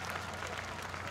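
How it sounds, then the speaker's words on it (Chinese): An audience applauds at the Taichung Jazz Festival, giving dense, even clapping that blends into a continuous wash of sound, fairly distant and soft. "我们给他们一点掌声好"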